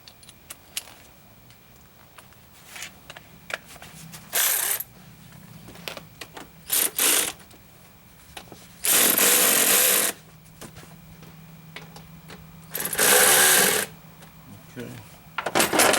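Tools tighten fittings on a plastic JLT Performance cold air intake kit for a 2015 Pursuit Charger, producing scattered clicks and clatter with several longer whirring bursts of a power tool, while someone talks quietly in between.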